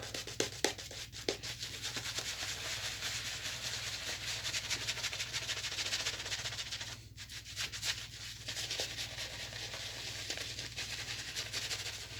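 A shaving brush swirls briskly against soap, whipping up lather with a continuous close, scratchy rubbing and frothy swishing, briefly pausing and resuming at a steady rhythm.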